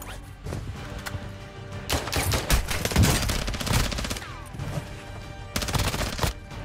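Call of Duty DMZ gunfire: bursts of automatic fire and scattered shots, loud and close at times with some more distant volleys, plus crashes and impacts in between.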